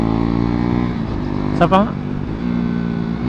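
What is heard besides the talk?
KTM Duke 390 motorcycle engine revving to 12,000 RPM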